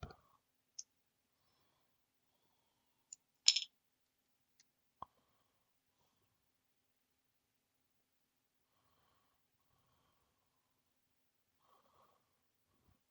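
Side cutters snipping plastic Millennium Falcon model parts off the sprue, a few sharp isolated clicks spread over near silence, close and quiet.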